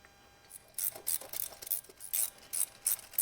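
A ratchet runs down the oil pump bolts on a John Deere two-cylinder engine, sounding as short, crisp bursts of clicking repeated about once every half second, close by and fairly quiet.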